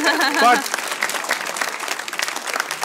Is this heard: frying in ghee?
no